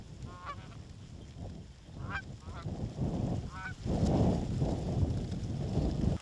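Canada geese honk during a North Dakota hunt at peak migration, with several separate calls scattered over steady wind noise that grows louder near the end.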